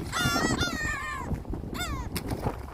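A seagull calls near the sea during a fishing trip, a few loud harsh squawking cries in quick succession, separated by brief pauses over faint background noise, with no talking.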